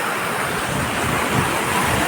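Water rushes at a dam, a dense, continuous roar of broadband noise that stays loud and steady throughout, with no voices.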